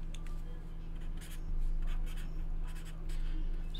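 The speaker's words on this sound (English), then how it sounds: "Let me actually write this down right here." Pen or marker scratching out a note by hand on paper at a trading card box break, with brief bursts of strokes over a steady low hum and no talking.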